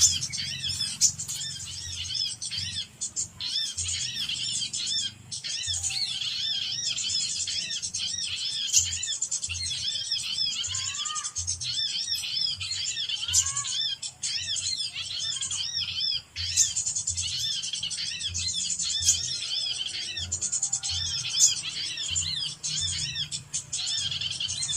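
Trapped birds, a great tit and a sunbird, chirp and flutter close by with rapid high twittering calls and occasional wing flaps over a steady background hum, with no talking.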